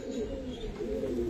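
Giribaz pigeons coo softly in a steady, continuous murmur, close by and moderately quiet, with no talk over them.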